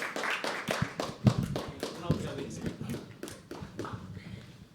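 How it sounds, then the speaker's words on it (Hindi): Scattered clapping from a small audience at a live poetry open mic, a handful of sharp claps spread unevenly over a few seconds, fairly quiet, with soft voices and room noise around them. "दोस्तों जोरदार तालियों से हम बुलाएंगे रोहन।"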